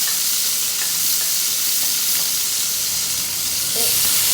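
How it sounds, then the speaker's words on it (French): Fish fries in a hot pan for a Sri Lankan fish curry, a dense, even sizzle and hiss that holds steady throughout with a faint bubbling pop near the end and no voices. "je vais bien revenir le poisson"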